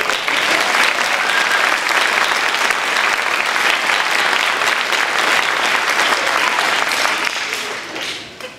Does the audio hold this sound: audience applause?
yes